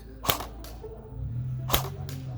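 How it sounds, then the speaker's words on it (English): A G&G GR14 airsoft electric gun fires BBs in two sharp, close, snappy single shots about a second and a half apart, over a low steady background hum. "let's go check out how this gun performs right now"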